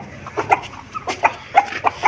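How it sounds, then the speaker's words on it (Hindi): Chickens cluck in short, quick bursts, several soft calls close by in a quiet space. "अभी इन मुर्गियों को बाहर निकालते हैं।"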